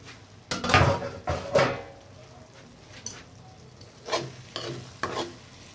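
Spoon stirring drumstick flower and green pea sabzi in a pan over low heat, with repeated scraping strokes and faint sizzling, clear and close.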